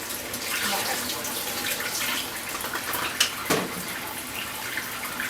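Hot water running steadily from a kitchen tap while yakisoba is being made, a continuous broadband rush with a couple of brief clinks near the end.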